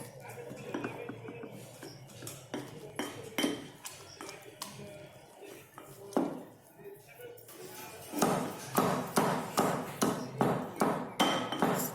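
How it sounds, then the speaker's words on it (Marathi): Garlic, green chili and tomato pounded together in a mortar for Maharashtrian chili thecha, a series of loud, sharp thuds repeating in a steady rhythm that quickens toward the end, with speech at times over it. "बघू शकता पूर्णपणे लसूण, मिरची आणि टोमॅटो एकत्र कुटलेली आहे मी"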